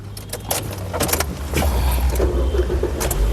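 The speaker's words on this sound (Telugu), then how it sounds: "ఈ కారు సింగిల్ సెల్ఫ్లో స్టార్ట్ అవుతుందా లేదా అన్న చూపిస్తానండి" A 2011 Nissan Sunny XL petrol car cranks and catches on the first try, with some faint keys and cabin clatter before the engine settles into a steady, close idle hum.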